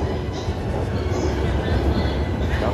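A long orange-striped Chuo Line commuter rapid train in Japan runs past with a steady, loud rumble of wheels and cars, broadband rail noise continuing through the short stretch.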